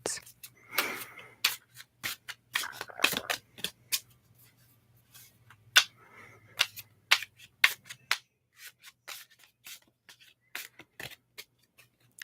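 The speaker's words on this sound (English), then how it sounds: "let me just shuffle the cards" Tarot cards are shuffled in a series of quick, crisp riffles and snaps, irregular bursts with pauses between them, close by over a faint hum.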